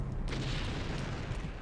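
A short, muffled explosion in the video game Fear Effect: a single dull boom bursts in and then fades into a low rumble.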